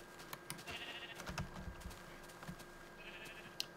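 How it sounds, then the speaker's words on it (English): Sheep in the Minecraft video game bleat in short pixelated calls, two clear bursts a few seconds apart over quiet game ambience, with no talking. "Sheep!"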